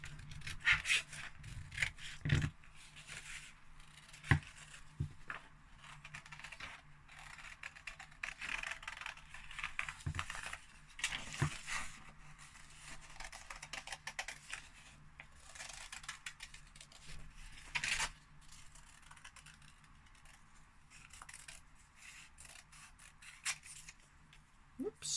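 Scissors snipping out a paper card shape, quiet irregular cuts and paper rustles close by, with short pauses between strokes.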